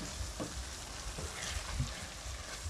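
Dry sherry, about a quarter cup, cooking off in a hot pan as a creamy side dish gets started, giving a steady, moderately quiet sizzle and hiss with faint stirring clicks and no talk over it.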